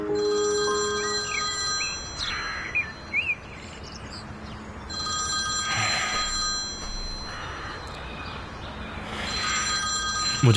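A telephone rings repeatedly in an indoor scene, its bursts recurring at a regular rhythm over a steady ambient background with faint bird chirps.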